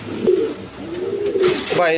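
Rajshahi Giribaz pigeons with squabs cooing in low, drawn-out rolling calls, close and fairly loud, with a short burst of other sound near the end.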